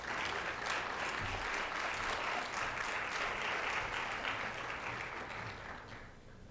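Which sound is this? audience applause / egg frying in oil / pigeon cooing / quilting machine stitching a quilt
audience applause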